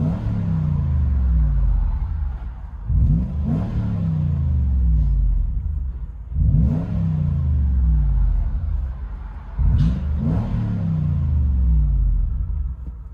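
From inside the cabin, a 2008 Toyota 4Runner with its 4.7L V8 and Magnaflow exhaust rumbles deeply and revs up in four repeated surges, each settling back to a loud, throaty idle.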